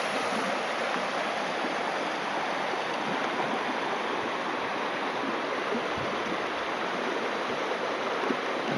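The Little Missouri River flows below a trail overlook on the Eagle Rock Loop Trail, giving a steady, even rush of water noise that holds without a break and with no voices.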